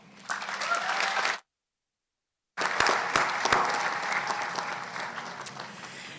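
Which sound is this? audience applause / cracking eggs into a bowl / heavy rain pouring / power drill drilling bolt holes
audience applause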